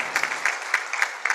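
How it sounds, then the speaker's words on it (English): Brief audience applause for the keynote speaker, a Deputy Governor of Bank of Uganda, at a conference opening ceremony, with a few scattered claps sounding fairly close and light. "let's please give him a round of applause"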